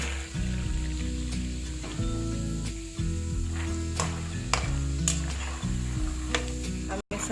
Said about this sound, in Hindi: अब मैं मूंगफली डाल दूंगी।